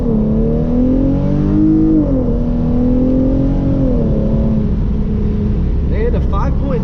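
A Hyundai Genesis Coupe 3.8 with traction control off pulls hard on an acceleration run. The engine drones loud and close, its pitch rising and dipping as power cuts in and out, and a voice comes in near the end.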